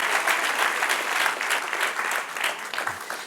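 Applause from a church congregation, sustained and full, with clapping swelling and easing slightly in waves before a faint low knock near the end.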